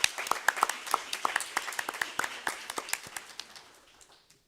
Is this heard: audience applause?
yes